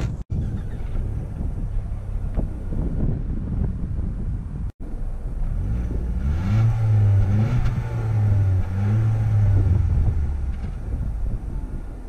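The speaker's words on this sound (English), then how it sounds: "So let's set off here in the all new 2018 Ford Focus." Base-engine 2018 Ford Focus setting off, its engine droning and rising as it pulls away, with steady wind and road noise around the cabin.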